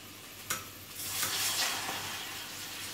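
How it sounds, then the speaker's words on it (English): Oat milk white sauce being stirred in a pan on the stove, a soft continuous scraping swish with a gentle sizzle, one sharp tap near the start, steady and close with no talking. "Keep on stirring."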